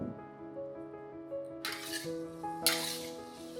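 Shredded potatoes stir-fry in a pan for Chinese tudou si, with a low hum, then two bursts of sizzle and scraping as the pan is tossed or stirred, close and fairly loud.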